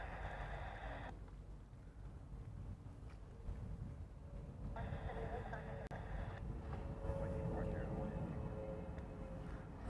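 An airliner in Stitch livery passing near Honolulu airport, heard from out on the water: a broad steady roar with a higher whine that swells slightly, under wind noise and some talk.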